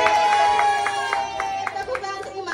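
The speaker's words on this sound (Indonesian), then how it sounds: "Tepuk tangan, terima kasih." Children at a ninth birthday party clap in a quick, steady rhythm. The beats are evenly spaced and sit close by over low room murmur.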